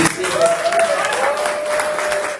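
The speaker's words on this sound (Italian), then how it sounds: "In questo momento voglio fare veramente un grande applauso a queste meravigliose donne." Audience applauding ceramic artists from Burgio at an exhibition in Havana, Cuba, a short, steady round of clapping with a faint tonal sound running underneath.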